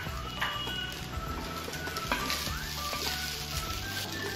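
Fried rice with spring onion stirred in a hot pan, a steady close sizzle and frying hiss with scraping stir sounds throughout.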